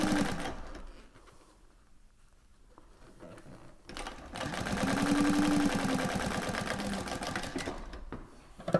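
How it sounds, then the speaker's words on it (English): A Thor GE 0617C sewing machine stitching, first with a faint, quiet stretch and then a steady, close mechanical whirring and rapid needle clatter that runs for several seconds before stopping abruptly. "So I just used my reverse lever to get my needle to stop where I want"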